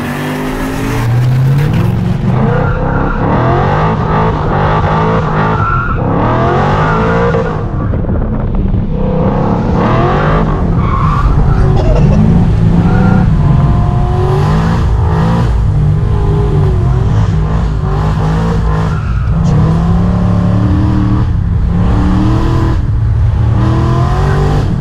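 A BMW E38 740iL with the M62 V8 engine revs hard and accelerates, its loud, deep engine roar rising and falling through repeated gear changes for a long stretch, with no talking.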